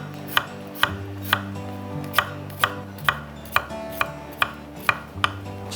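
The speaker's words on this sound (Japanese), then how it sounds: "みじん切りに。" Garlic being finely minced with a kitchen knife on a board, about a dozen crisp, evenly spaced chops close up over soft tonal background music.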